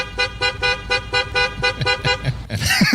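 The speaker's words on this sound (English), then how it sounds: "great moments in honking, quite possibly the greatest horn of all time from Caddyshack" A car horn from the film Caddyshack honks in a rapid, rhythmic string of about eight loud, evenly spaced toots, then breaks into a brighter, messier burst of sound at the end.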